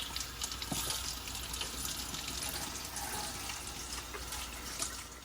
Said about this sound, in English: we went ahead and we rinsed all our leeks like you saw